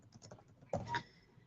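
Computer keyboard typing during a software demo, a soft scattered patter of keystrokes followed by a brief louder clatter, quiet and close with no voices.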